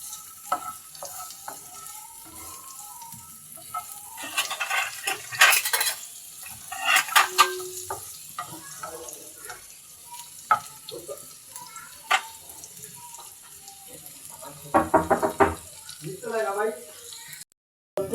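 Onion and garlic, with sliced green chilies, fry in a pan for a bitter gourd dish. A steady sizzle runs under repeated stirring and scraping, with occasional clinks of a utensil against the pan.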